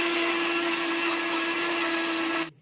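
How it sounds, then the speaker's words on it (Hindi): An electric mixer grinder runs at full speed grinding maize into flour, a loud, steady high-pitched whine that cuts off abruptly at the end. "देखिए मिक्सी चल गया है"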